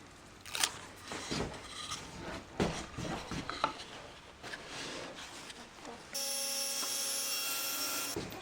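Hand saw cutting wood for a tripod lamp, run along an added guide piece; uneven rasping strokes up close, ending in a steady hissing noise.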